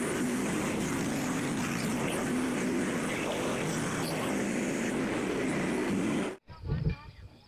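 A Frontier OS27 sawmill engine runs loud and steady close by, a dense mechanical roar, then cuts off abruptly near the end, leaving a few soft thumps and handling noises.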